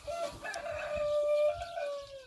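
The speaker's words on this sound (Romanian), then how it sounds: "ce cântă cocoșii" Roosters crow on a farm with goats and other animals, one long drawn-out call carrying clearly over faint background clucking and rustle.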